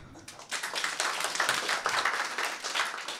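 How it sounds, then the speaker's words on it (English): A stand-up comedy audience claps in a dense, continuous burst of applause, many hands overlapping for a few seconds. "Clap if you do."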